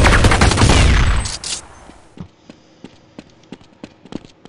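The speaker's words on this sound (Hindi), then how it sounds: "कहाँ से गोली की आवाज आ रही है मुझे नहीं पता" A dense, loud volley of gunfire in Counter Strike fades after a second or so into scattered single shots and sharp cracks, some near and some farther off.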